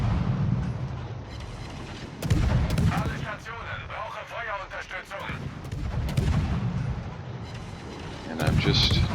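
The destroyer Gearing fires its guns in a naval battle video game, with repeated loud booming salvos over rumbling battle noise, the heaviest blasts coming at the start, middle and end, and a voice talking over it.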